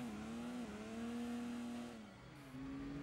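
A muffled car engine in Gran Turismo 2, fitted with a muffler, hums in a steady tone, shifting pitch slightly and dipping briefly before settling again, with a synthetic, game-like quality.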